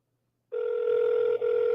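A telephone call rings out unanswered, giving a steady electronic tone that starts abruptly and holds with a tiny dropout, fairly quiet and alone.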